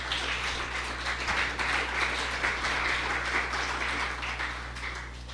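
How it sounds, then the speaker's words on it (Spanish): A church congregation applauds God during a Spanish-language worship service, a steady, sustained wash of clapping over a low electrical hum, fairly distant and even throughout. "Otra vez dale otro aplauso a nuestro Dios"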